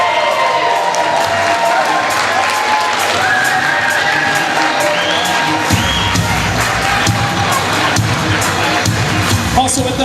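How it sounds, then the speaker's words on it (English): Wedding reception crowd applauding and cheering for the bride's grandmother during introductions, a loud, steady wash of clapping and shouts that fills the room and swells partway through, with voices mixed in. "how about a big round of applause for the bride's grandmother? Let's hear it nice and loud for Mary Ann Anderson"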